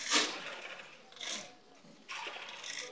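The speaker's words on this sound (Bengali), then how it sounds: "আমি সেলাই করে নিচ্ছি।" Sewing machine stitching blouse fabric, running in three short bursts of rapid mechanical whirring with brief pauses between, close and fairly quiet.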